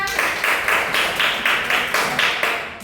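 Students in a classroom clap together in a steady, evenly spaced rhythm of about eight claps, close and fairly loud with no talking.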